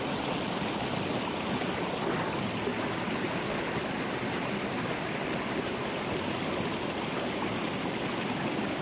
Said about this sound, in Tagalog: So andito kami sa ilog ngayon tol.